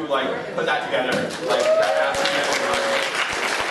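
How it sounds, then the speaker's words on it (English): A university design class gives a quick round of applause for a student, with moderate clapping and some laughter beneath a person speaking a few words over it. "quick round of applause for Steph"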